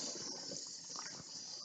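Cold water from a kitchen tap runs over peeled tomatillos being washed, a continuous close rushing stream with faint irregular splashes from the fruit, no voices.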